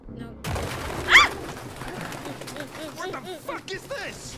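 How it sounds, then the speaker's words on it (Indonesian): A pigeon coos in a grimy, foul-smelling abandoned building in Detroit: Become Human, with a sharp bird call followed by soft repeated low coos and flutters, close by, amid a voice talking. "Kok ada merpati?"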